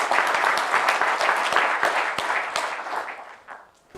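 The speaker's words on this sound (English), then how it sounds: "let's give him a round of applause" An auditorium audience at a NASA Goddard lecture breaks into dense, continuous clapping that holds steady, then thins and fades toward the end.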